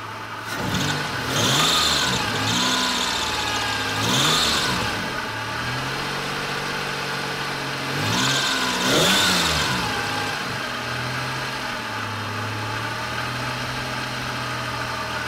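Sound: car engine revving as gas is given

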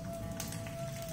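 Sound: mustard seeds and urad dal sputtering in hot oil

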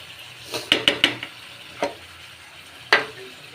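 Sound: potato paste being fried and stirred into masala

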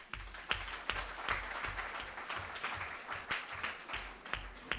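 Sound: audience applause

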